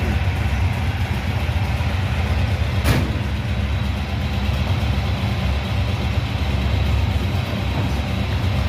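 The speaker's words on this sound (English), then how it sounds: "I want to hear that noise coming out my exhaust." Steady, loud engine rumble from a car exhaust, a continuous low drone holding level throughout with one brief sharp burst near the three-second mark, and no voices.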